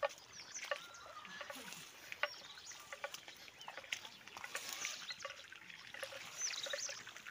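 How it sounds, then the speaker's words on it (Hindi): Irrigation water trickles and spreads slowly across a farm field, a faint, close babbling with small splashes and gurgles throughout, heard alone without talk. "तो देख सकते हो आप, पानी धीरे धीरे बढ़ रहा है इधर की साइड पर,"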